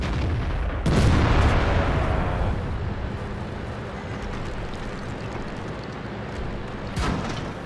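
Tank cannon fire in World of Tanks: one heavy boom with a long rumbling tail, then a quieter second shot several seconds later, over steady engine and battle noise.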